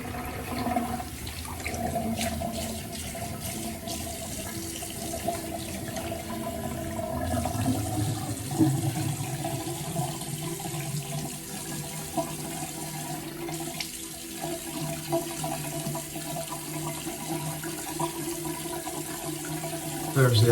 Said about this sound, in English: Let's rinse with some cold water here.